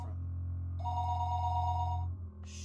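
A telephone rings in the visual novel game Higurashi, a sustained electronic bell tone lasting about two seconds over a low droning background, then cutting off.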